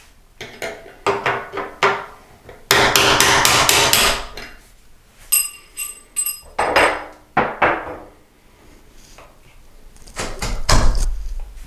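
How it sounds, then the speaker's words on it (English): A hammer drives a punch against the metal pin of an interior door hinge in repeated bursts of sharp metallic knocks, some rapid clusters and some single ringing strikes, close and loud with brief pauses between. "we're going to knock this here hinge out, so you're going to need a punch and a hammer"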